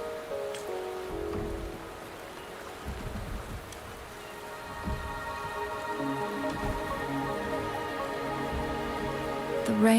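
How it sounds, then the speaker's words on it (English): Rain falls in a video game, a soft steady patter behind sustained musical tones, moderately quiet and even throughout with no talking. "The rain is subsiding, and the sky will soon clear."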